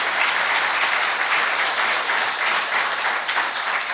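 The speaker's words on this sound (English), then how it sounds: "You are applauding being an Indian getting selected there" Sustained applause from a seated audience at a meeting, dense and loud clapping that holds steady throughout without a break.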